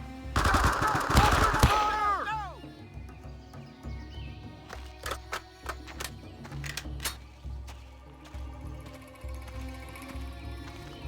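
Machine gun fire in the Vietnam War shooter Men of Valor, a loud dense burst in the first two seconds followed by scattered sharper shots, clanks and background battle noise.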